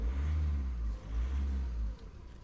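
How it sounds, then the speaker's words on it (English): A Skoda Rapid engine revs in two quick, moderate blips, rising and falling at a fairly faint level, with no talk over it. "Revs freely."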